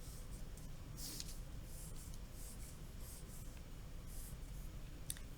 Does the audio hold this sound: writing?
yes